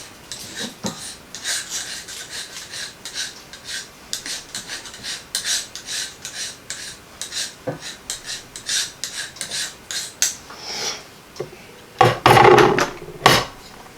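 A spatula repeatedly scrapes a cutting die off a cutting mat, producing rhythmic rasping strokes in short bursts, close and fairly loud, ending with a few sharper, harder scrapes.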